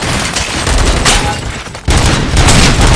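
Loud, dense gunfire rattles through a firefight in the video game RoboCop Rogue City, sustained bursts and booming shots overlapping at close range with a sharp blast near the middle.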